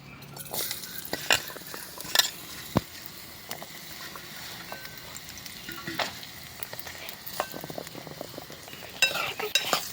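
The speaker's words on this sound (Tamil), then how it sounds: "நம்ம வந்து எண்ணெய் ஊற்றி காய வச்சுட்டு இப்போ உருளைக்கிழங்கு போடலாம்" Potatoes frying in hot oil with a continuous quiet sizzle, punctuated by sharp metallic clinks and scrapes of a spoon stirring against the pan, several sharp knocks in quick succession.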